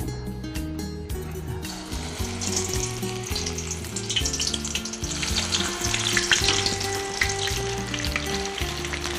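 Thin slices of raw banana fry in hot oil, giving a loud, steady bubbling sizzle that builds slightly and runs without pause, with occasional stirring clatter and no talk.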